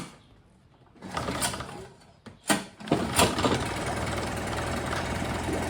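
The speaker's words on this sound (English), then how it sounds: "Okay, motor running." A Honda B100 motorcycle engine starts after a few brief attempts, then settles into a steady, loud running idle close by.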